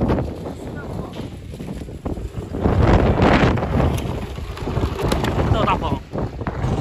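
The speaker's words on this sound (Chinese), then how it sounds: "这大风" Strong wind at a fruit wholesale market buffets the microphone in loud, gusty rumbling waves that rise and fall throughout.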